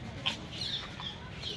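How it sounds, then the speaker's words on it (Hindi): A faint jungle fowl call rings out over steady outdoor noise at a zoo, a few short high clucking notes, somewhat distant. "ये देखो भाई जंगली मुर्गा है"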